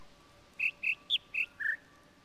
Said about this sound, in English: Why are there bird sounds here?